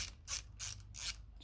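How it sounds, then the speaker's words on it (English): Snap-on ratchet wrench clicking in four bursts of rapid pawl clicks, evenly spaced, close and clear, worked on a Ford Focus ST during spark plug service, with no talking. "Good thing about these snap-on wrenches is, you know, they're flexy, so you can sort of do this."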